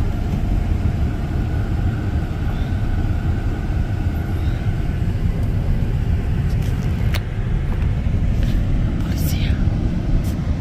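Cars speed past on a snowy road in Utah, giving a constant loud roar of traffic and tire noise throughout, with a few faint higher sounds near the end.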